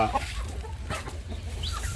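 Chickens cluck on a small, non-commercial Thai village chicken farm, a close, busy flock murmuring steadily with a few sharper calls over a low background hum.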